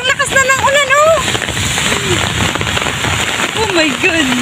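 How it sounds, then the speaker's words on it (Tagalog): Heavy typhoon rain pours down at a Landers store, a dense, loud, steady hiss of drops drumming on surfaces, with voices talking over the downpour throughout. "Sobrang lakas na ng ulan."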